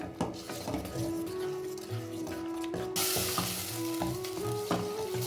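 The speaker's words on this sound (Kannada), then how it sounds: "ಇದು ನೀಟಾಗಿ ಫ್ರೈ ಆಗಬೇಕು ಹಸಿ ಸ್ಮೆಲ್ಲೆಲ್ಲ ಹೋಗೋವರೆಗೂ ಫ್ರೈ ಮಾಡ್ಕೊಳ್ಳಿ" Ground chili paste frying in a pan as the base for an avarekai and karimeenu sambar, a bright continuous sizzle with spoon stirring and clinks against the pan, no talking.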